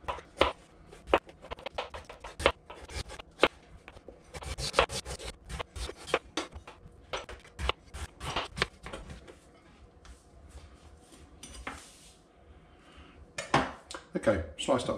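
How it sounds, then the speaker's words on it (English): A knife slices potatoes into thin, roughly 2 mm rounds for a beef hotpot, making quick, irregular close-up taps and scrapes on a cutting board with a few short pauses. "Okay, sliced up the potatoes."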